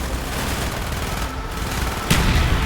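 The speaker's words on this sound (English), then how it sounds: "Firing mortar!" Intense battlefield combat in the Call of Duty Black Ops game, with mortar and gunfire: a dense, continuous roar of overlapping shots and blasts, and a heavier thump rising out of the din near the end.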